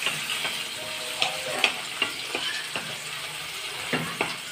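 Food frying in a pan for a home supper, a soft continuous sizzle broken by sharp clicks and scrapes of a spoon stirring against the pan, close by with no talking.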